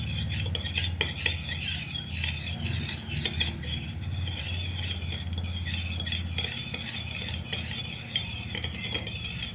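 A spoon stirs a small mix of rice water and almond oil in a bowl, steady scraping and clinking against the sides throughout, close and continuous with no voices.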